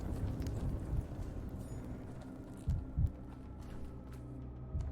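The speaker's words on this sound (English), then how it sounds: "A really loud heartbeat, I guess from the mania." Loud, deep heartbeat thumps from the mania effect in the video game Pathologic 3, a few heavy throbbing pulses rising over a dense low rumbling game ambience.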